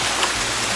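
A waterfall gives a brief, steady rush of falling water, a dense, even hiss like heavy rain, loud and unbroken with no voices.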